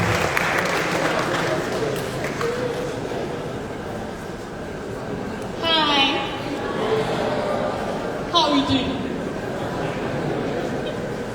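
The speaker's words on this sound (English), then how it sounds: "A round of applause, please." Audience applause welcoming a woman onto the stage at a tech festival in Nigeria, a steady mass of clapping from a crowd filling the whole stretch, with voices rising over it at moments.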